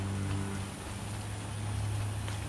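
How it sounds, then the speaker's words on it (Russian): Steady rain falls in The Witcher 1 video game, a continuous even hiss with a low tonal hum underneath, fairly loud and unbroken, with no talking. "Сейчас же дождь."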